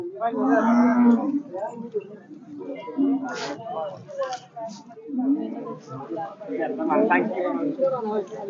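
A Khillar bull lets out a long, deep moo at the start, followed by lower lowing and calls as people talk nearby in a busy outdoor crowd at a cattle show in Satara.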